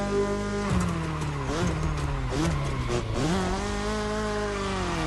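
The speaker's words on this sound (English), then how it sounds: "Oh, lost a bit of control there. Drifting." A racing car's engine revving hard with rising and falling pitch as it loses grip and drifts, tires squealing underneath, loud and continuous with no talk.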